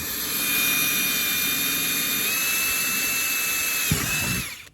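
A power drill whines at a steady high pitch for several seconds, drilling through a MAXTRAX recovery board, close and loud, then slows and winds down at the end.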